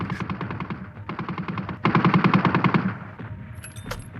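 Rapid machine gun fire from a World War I battlefield at the Somme, bursts of fast rhythmic shots loud and close, in several strings with short gaps, no talk.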